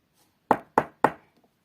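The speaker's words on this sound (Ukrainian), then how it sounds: "А хто це до нас постукав?" Three quick, evenly spaced knocks on a door, crisp and close, in an otherwise quiet room.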